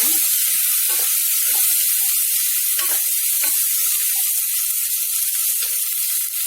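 Sliced shallots and garlic frying in a pan for a Tamil rice and lentil dish, giving a loud, steady, close sizzle with scattered crackles throughout.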